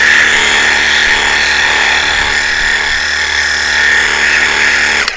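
A Worx Hydroshot 20V cordless power cleaner sprays water with a loud, steady motor drone and spray hiss held close for about five seconds, then cuts off abruptly.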